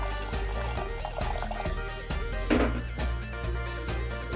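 Water pours steadily into a metal pressure cooker for cooking lentils, a gurgling splash heard over background music, fairly close and moderately loud.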